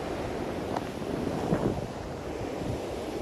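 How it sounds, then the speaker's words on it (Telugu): Surf rolling onto the shore at Kakinada beach, a steady broadband wash of waves with wind buffeting the microphone and a couple of louder breaking swells, no talk. "ఇక్కడ ఎక్కువ అలలు ఉన్నాయి."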